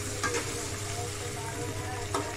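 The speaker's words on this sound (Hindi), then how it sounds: "आलू के साथ साथ हमारी प्याज भी गोल्डन फ्राई हो जाएगी।" Potatoes and onions fry golden in a pan with a steady close sizzle, and a couple of brief stirring scrapes rise above it.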